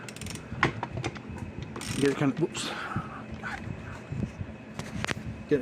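Socket wrench ratcheting on a Tru-Test MP600 load bar during repair: irregular clicking ratchet bursts mixed with metallic handling clatter, close up, with a dog barking briefly.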